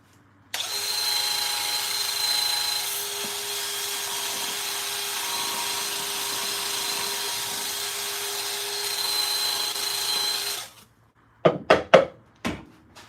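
Wood bowl spinning on a lathe while being sanded gives a steady close whirring hum with a constant tone for about ten seconds, then stops abruptly, followed by a few sharp knocks.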